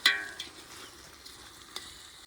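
A soft, steady sizzle of fresh green pigeon peas frying in oil, with a few clinks and scrapes of stirring breaking through.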